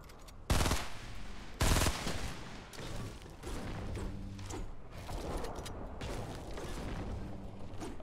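Burst rifle fire in the video game Fortnite: two sharp, loud bursts come in quick succession near the start, followed by quieter mechanical clicks and creaks.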